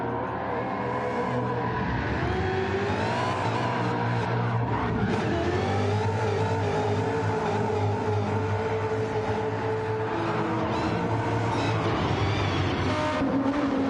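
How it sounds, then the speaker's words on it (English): Race car engines revving in Gran Turismo 7, with a Lancia Delta and a Honda on track, a loud continuous roar that rises and falls through gear changes with tire squeal and skidding mixed in. "Definitely sounds like an engine swap, that one."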